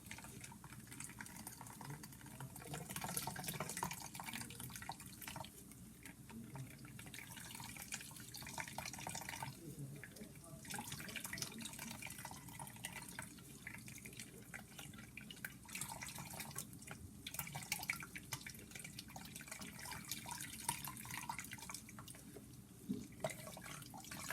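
Homemade soy milk is pressed through a fine filter bag and drips and trickles steadily into a container below, a faint, continuous wet patter heard up close with no one talking.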